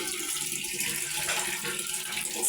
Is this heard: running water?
yes